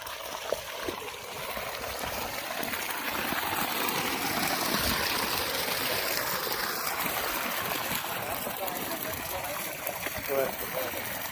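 Water gushes from the outlet of a JM Solar 900 W BLDC solar pump, a steady, rushing splash that runs without a break, while someone talks over it.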